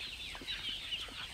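Chickens on a farm that raises fish and keeps four houses of about a thousand birds each, heard as a steady, busy murmur of clucking with no clear single call standing out.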